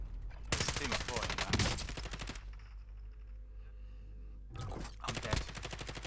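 Loud, rapid bursts of automatic gunfire from Call of Duty: Warzone come in two long volleys split by a quieter pause, with a player speaking briefly between them.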